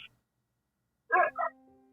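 A dog lets out two quick, sharp barks after a stretch of near silence, close and moderately loud, followed by a faint lingering tone.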